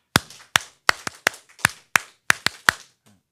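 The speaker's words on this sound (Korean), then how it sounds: "박수 10번." A church congregation claps in unison ten times, sharp close claps in a quick, slightly uneven rhythm, the hall falling quiet right after.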